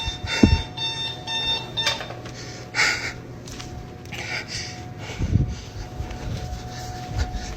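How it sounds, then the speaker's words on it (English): A steady electronic alarm sounds continuously during a walkthrough of a reportedly paranormal site, its tone running under scattered knocks, rustles and footstep-like noises, with no talking. "now that alarm's going off"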